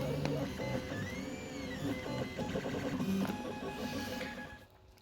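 A 3D printer prints a speedo drive ring for a TTR250 motorbike, giving off a continuous whirring of stepper-motor tones that shift pitch with each move. The sound is close and steady, then fades toward the end.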